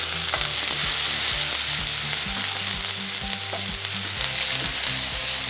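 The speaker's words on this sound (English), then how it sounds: "Going in with some extra virgin olive oil, adding our Scotch bonnet pepper and thyme, as well as onion" Onion, Scotch bonnet pepper and thyme frying in extra virgin olive oil, a steady, close, bright sizzle with no speech, while low music plays underneath.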